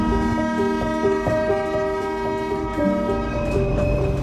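A train horn sounds at a busy railway station, a sustained loud tonal blare with steady harmonics over the rumble of rail traffic, lasting the whole moment with no talk.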